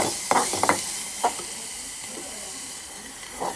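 Chili powder and ground spices fry gently in a pan with a soft, steady sizzle, broken by a few quick scrapes of a spoon stirring, close and quiet.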